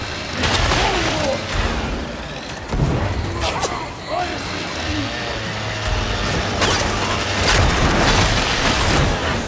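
A grenade explosion in Warhammer 40k: Darktide gameplay booms among constant mechanical clatter, ratcheting and gunfire, with character voices shouting over the din.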